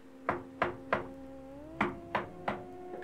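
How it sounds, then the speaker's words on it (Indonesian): Knocking on a door as a sound effect, six sharp raps in two groups of three, evenly spaced and close, over a low sustained eerie tone. "Pintu mereka diketuk berkali-kali"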